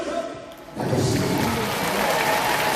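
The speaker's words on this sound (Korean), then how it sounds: "박수를 칠 준비하라고" Applause breaks out from a church congregation during a sermon, starting after a brief lull and building into sustained, dense clapping that fills the room.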